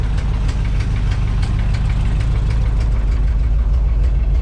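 A 1962 Chevrolet C10 truck engine, cold with one or two bad spark plugs, idles roughly nearby, a loud low rumble with uneven knocking pulses throughout, no talking.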